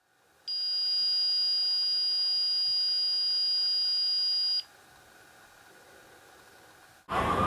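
A long, steady high-pitched electronic beep from spy video glasses powering off after a four-second button hold lasts about four seconds and then cuts off, leaving faint hiss before a brief burst of noise.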